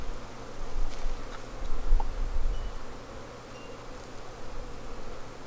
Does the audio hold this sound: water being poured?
no